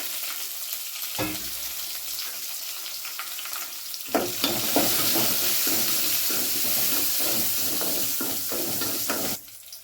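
Cumin, mustard seeds, garlic and dry chillies hit hot oil for a tempering, bursting into a loud, steady sizzle after a few quiet seconds with brief stirring clicks, then cutting off abruptly.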